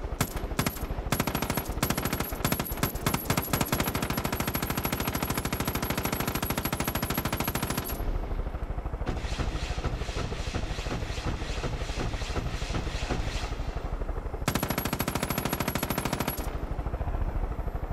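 Rapid video-game gunfire, bursts of automatic machine-gun fire clattering loudly and continuously, with a brief pause partway through before the shooting resumes.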